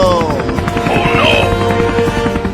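A cartoon helicopter flies with a rapid chopping rotor pulse, loud and close, while whooshing and sliding effect tones sweep over it throughout.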